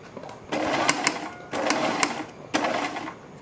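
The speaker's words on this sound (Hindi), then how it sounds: "और इसके बाद इसके ऊपर हमें सिलाई लगानी है।" Sewing machine stitching a side-dori kurti, running in three steady bursts of about a second each with short pauses between, close and clear with no talk.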